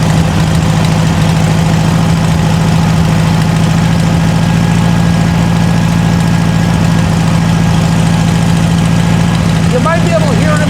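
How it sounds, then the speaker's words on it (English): A VW engine in a circa-1960 Ford Model T kit car, on choke after carburetor replacement, idles steadily while warming up, a loud, close, even rumble throughout with a faint voice near the end. "As the engine's warming up, it's picking up RPM like it should."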